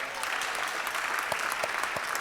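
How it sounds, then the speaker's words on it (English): An audience applauds a Rotarian honored as Volunteer of the Year at a Rotary club meeting, a steady, dense wash of clapping that fills the whole moment without pause. "Let's give Allie a round of applause"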